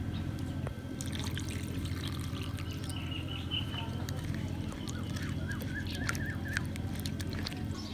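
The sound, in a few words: washing onion with water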